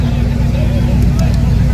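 A Mustang at Yello Belly Drag Strip makes loud, steady engine roar that fills the clip throughout, with crowd babble blended underneath.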